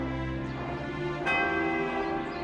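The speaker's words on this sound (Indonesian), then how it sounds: "Suara pertama dari lonceng raksasa itu membahana di penjuru negeri." A giant bell rings in an animated Cinderella cartoon, a sustained resonant toll with a fresh strike about midway, loud and echoing alone over a rich, humming tone.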